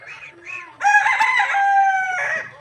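A domestic chicken gives a single loud, close crow, preceded by a couple of short clucking calls.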